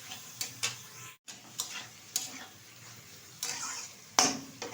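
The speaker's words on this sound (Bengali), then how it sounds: "ভালোভাবে ভেজে নেব।" Katla fish roe and eggplant frying in hot oil, a soft steady sizzle broken by sharp ticking pops and clinks of a utensil stirring in the pan, with no voices.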